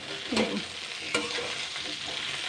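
Peeled pumpkin being stirred in a hot pan for a traditional Bengali morich jhol, with a steady close sizzle of frying and a couple of distinct scraping strokes of the spoon, no voices.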